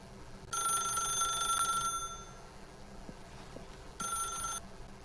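Telephone in The Stanley Parable video game rings in two bursts, a longer electronic ring followed by a shorter one after a pause, loud and close over a faint background hum.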